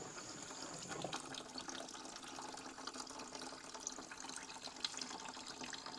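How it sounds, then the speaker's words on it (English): Liquid is drawn out of a barrel of acid water in coca paste processing, a quiet continuous trickling and splashing with faint drips, steady throughout and without speech. "aquí estoy sacando el agua de ácido"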